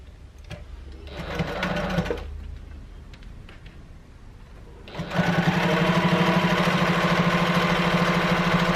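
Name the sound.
sewing machine top stitching a tote bag seam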